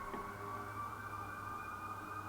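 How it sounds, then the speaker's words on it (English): Emergency vehicle sirens wail steadily in the distance, a faint sustained tone carried over low background rumble with no talking. "you hear the sirens going off"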